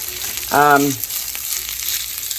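Steady hiss of food sizzling in a pan, with a short squeaky scrape of the pan partway through.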